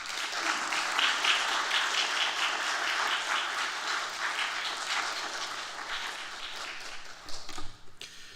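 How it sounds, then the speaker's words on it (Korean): A Presbyterian church congregation at a New Year evening service applauds to welcome a pastor, a sustained, fairly distant roar of many clapping hands that tapers off near the end. "우리 박수로 환영하겠습니다"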